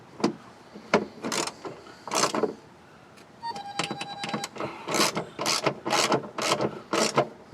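Ratchet tightening bolts on a 2002 Jeep Grand Cherokee power window motor and regulator, sharp clicking bursts in a fast irregular rhythm, close up, with a brief electronic beep midway.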